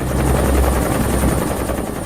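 A helicopter drones steadily and close at constant loudness, its rotor thumping and turbine whine filling the whole stretch with no voices.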